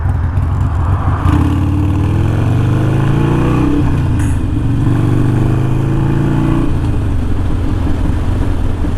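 A motorcycle accelerates hard in first gear, with a loud engine note rising in pitch, easing off, then climbing again under heavy wind buffeting.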